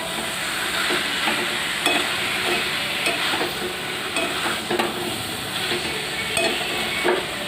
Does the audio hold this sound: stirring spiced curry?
yes